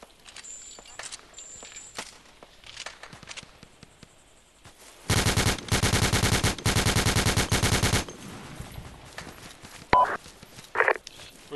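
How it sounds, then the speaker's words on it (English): Loud machine-gun bursts in a military co-op shooter game sound in one sustained three-second volley in the middle, with quieter scattered shots, footsteps and faint radio chatter around it. "We're taking fire from south."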